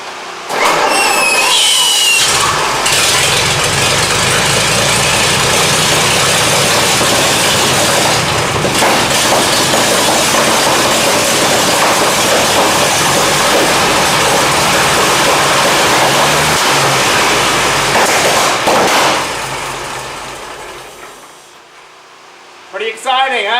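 A 1923 Seagrave fire engine with a 1000 CID engine starts for the first time in ages and runs loudly and steadily close by, with a broad roar that lasts about twenty seconds before fading down near the end.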